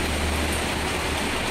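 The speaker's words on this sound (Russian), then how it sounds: "Смотрите, как классно идет дождь, обалдеть." Rain falls steadily under pine trees as an even, broadband patter and hiss, fairly loud and close, with no voices.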